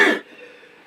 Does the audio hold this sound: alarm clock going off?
no